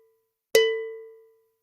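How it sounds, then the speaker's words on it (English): A single cowbell is struck once as a percussion demonstration in a kindergarten music lesson, giving a sharp metallic clank that leaves a clear, steady ringing tone fading out over about a second. "You know, the cowbell,"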